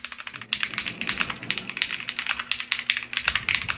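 Continuous typing on a $500 computer keyboard: a dense run of bright, close keystrokes with a light tapping character, steady in pace and level, and no talking.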